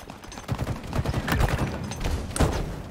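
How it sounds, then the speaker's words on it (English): Rapid gunfire dominates a Halo Infinite match, with a sharp blast near the end that fits a frag grenade detonating, loud and close amid the shooting. "Grenade out."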